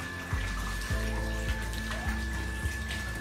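Children play in a filled tub, with water sloshing and splashing in a repeating rhythm over a continuous wet background wash, close by and fairly quiet.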